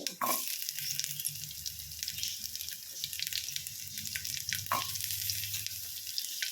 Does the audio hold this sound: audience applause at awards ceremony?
no